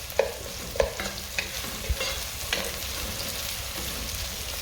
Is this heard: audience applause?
no